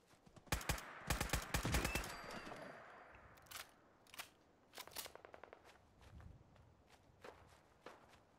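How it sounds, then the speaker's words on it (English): Bursts of sharp, crackling gunfire in rapid volleys in the video game Fallout 4, some loud and others fainter and farther off, with quieter footsteps between. "So I'm hearing gunshots all over the place"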